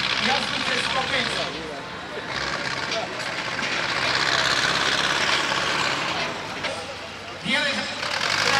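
A home-built tractor climbs over a hill at the 2025 Moravskolieskovská tractor parade, its engine droning steadily at moderate distance while a commentator talks over it throughout.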